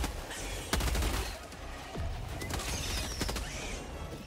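Gunfire from a weapon in the video game Helldivers 2, loud bursts of shots cracking out in quick succession with a pause between volleys, over a constant background of game noise.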